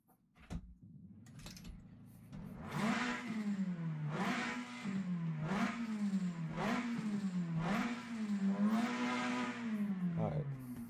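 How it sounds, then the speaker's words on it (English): A car's engine revved hard in neutral while parked: a rising and falling growl repeats in several strong pulses near the microphone, with no one talking. "I also love the sound of this car."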